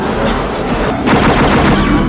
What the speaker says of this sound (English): He's firing while on one of the rides?